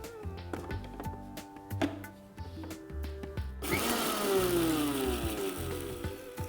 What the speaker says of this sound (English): And now what we'll do is we will grind it.